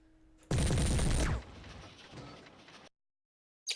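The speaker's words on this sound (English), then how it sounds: "Let's try the autocannon." A mech's autocannon in MechWarrior 3 fires one loud, heavy burst lasting under a second, then rumbles and fades into a quieter echoing tail before cutting to silence.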